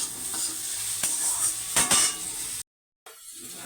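Chopped tomato goes into onions frying with salt in a pan, giving a continuous bright sizzle with occasional utensil clinks, close and steady until a brief sudden cutout near the end.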